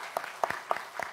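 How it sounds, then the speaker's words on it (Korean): Applause welcoming new members at a Korean church Sunday worship service, heard as a few quiet, scattered claps in a short irregular burst with no talking. "우리 박수로 우리 환영하도록 하겠습니다"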